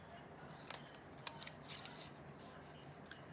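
Scissors snip through paper for a handmade card, a few soft, close cuts with one sharper snip, quiet over faint room background.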